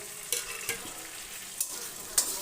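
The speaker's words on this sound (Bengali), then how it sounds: "দিয়ে ভালো করে নেড়ে নিলাম।" Onions and tomatoes fry in a pan with a low steady sizzle, while a spoon scrapes through them in a few distinct strokes, close by and with no talking.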